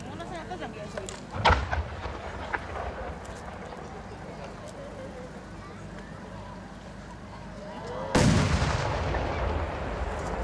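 Large 8-inch fireworks shells burst at a national fireworks competition in Aizu, Japan, with two deep booming explosions several seconds apart rolling out over a noisy outdoor crowd, and a faint announcer voice in the background.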